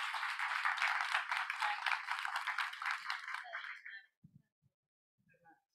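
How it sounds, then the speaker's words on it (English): Audience applause for a panel after a film screening, a dense burst of clapping that fades out after about four seconds, followed by a few faint sounds in near silence. "I'm just going to ask for one more round of applause for fantastic panel"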